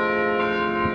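Campus carillon bells ringing out the school alma mater song at five o'clock, sustained overlapping bell tones sounding steadily and fairly loud, with no talking.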